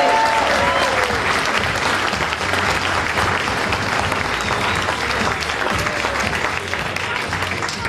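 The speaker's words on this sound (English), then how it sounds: "give one big round of applause to the 2010 Shad Derby Queen candidates." Crowd at the 2010 Shad Derby gives a big round of applause for the pageant queen candidates, steady full clapping across the whole stretch with an announcer's voice briefly audible at the start.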